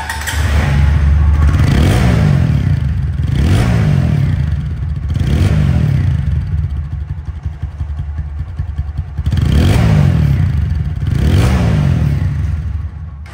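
A second-hand motorcycle's engine running loud and close, with a deep steady idle and a few rising revs that swell and fall back, alone without talk.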